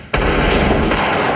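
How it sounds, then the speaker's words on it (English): A burst of gunshots in the film Reservoir Dogs, one loud sustained crack of gunfire that rings out suddenly after a moment of near silence. "And then we hear gunshots."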